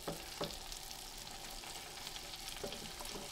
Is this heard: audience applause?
no